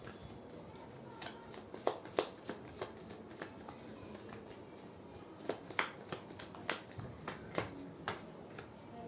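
Tarot cards being shuffled, a quiet, close series of sharp card taps and snaps in an irregular rhythm throughout, over a soft steady background hiss.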